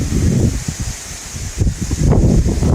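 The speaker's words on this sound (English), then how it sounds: "It's really windy though." Gusty wind rushing and buffeting through a palmetto grove at Crystal River, Florida, with a dry rustle of palm fronds swelling louder toward the end.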